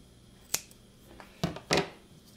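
Scissors cut through a piece of foam for a motor housing build: three short, crisp snips, the first alone and the last two close together, in an otherwise quiet space.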